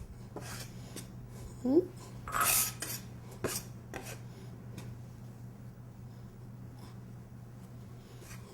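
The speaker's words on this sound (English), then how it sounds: "Now you can start to use your bench press to kind of work the flour into the pepper puree." A bench scraper working flour into roasted red pepper puree for pasta dough: scattered scraping and tapping on the work surface, close and fairly faint, with a brief word spoken.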